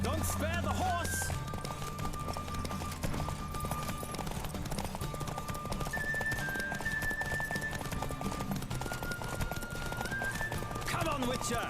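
Rapid hoofbeats of a galloping horse in a race in the video game The Witcher 3: Wild Hunt, with game music and background voices, steady and continuous throughout.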